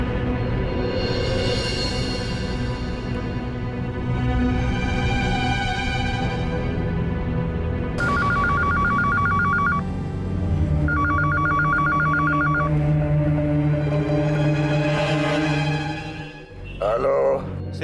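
A telephone rings in short repeated bursts, twice in a row, over a continuous music-and-ambience bed in a Hindi crime drama scene before a call to a home secretary is answered.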